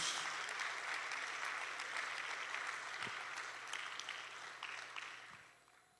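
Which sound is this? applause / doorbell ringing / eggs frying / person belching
applause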